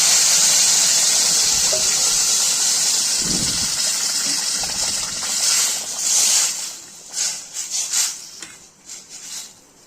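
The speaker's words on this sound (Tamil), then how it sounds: "ஒரு டம்ளர் ரவைக்கு ரெண்டு டம்ளர் தண்ணி ஊற்றணும்" Water is poured into roasted semolina in a pan while making mango kesari. A steady rushing pour comes first, then it breaks into uneven bubbling, hissing bursts that fade toward the end.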